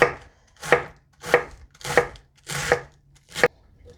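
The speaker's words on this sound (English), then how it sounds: "now I'm cutting up my carrot" A knife chops through a carrot on a cutting board in six distinct, evenly spaced firm thuds, close and clear with no talking.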